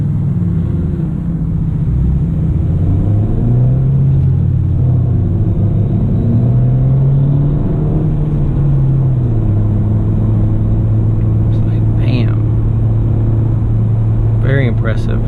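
A 2017 Honda Civic Si with a 205-horsepower engine and manual clutch pulls hard under acceleration, its steady engine drone rising and falling in pitch from inside the cabin. Voices speak over it.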